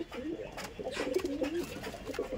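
A male Andhra pigeon coos in a run of low, rolling, throaty phrases, fairly close, with faint background noise and brief clatters around it.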